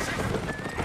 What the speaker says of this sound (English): Running around on my trusty donkey